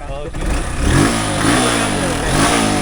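Close motorcycle engine revving in a continuous throaty roar that swells and eases over a few seconds, with no one speaking.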